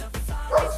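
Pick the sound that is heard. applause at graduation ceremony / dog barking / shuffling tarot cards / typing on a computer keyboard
dog barking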